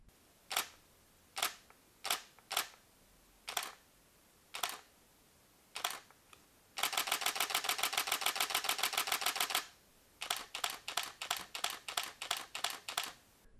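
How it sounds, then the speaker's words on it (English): Canon EOS 80D shutter firing: a string of single crisp clicks spaced apart, then a fast burst of rapid continuous shots lasting a few seconds, followed by a slower run of quick successive releases, close and clear with no talk. "Here's a quick demo of shutter sounds."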